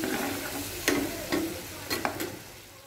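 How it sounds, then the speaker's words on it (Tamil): Coriander powder and tomatoes sauté in a pan: a low steady sizzle broken by several distinct spoon scrapes and stirs, close and alone without talk. "மல்லித்தூள் ஆட் பண்ணுறேன். எல்லாம் கொஞ்சம் வதங்கட்டும்."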